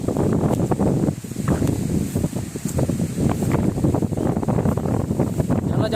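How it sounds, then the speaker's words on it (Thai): Strong outdoor wind buffets the microphone with a loud, continuous rumble and gusty roar, and there is a faint rustle of wind-tossed trees beneath it. "ผมก็คิด ว่า เสียง ลมน่าจะเข้าพอสมควรนะครับ"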